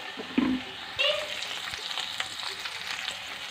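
Green chilli and small green onion frying in a little oil in a kadai, a steady close sizzle with a sharp hiss and a few stirring scrapes near the start, no talk.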